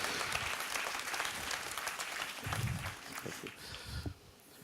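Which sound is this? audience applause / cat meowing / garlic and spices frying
audience applause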